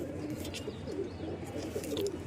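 Pigeons of the Kasni Teddy breed coo softly and continuously in a loft, a low steady murmur of overlapping calls close by with no voices.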